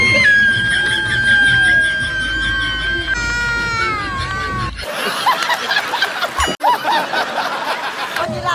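Shrill, rising screams and shrieks from many people riding a giant wheel at a fair ring out close by, followed by a noisy jumble of excited crowd voices.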